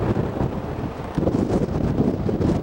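Strong wind and Pacific surf along the Hawaii coast blend into a dense, continuous rushing roar, loud and close, with wind buffeting the microphone throughout and no one speaking.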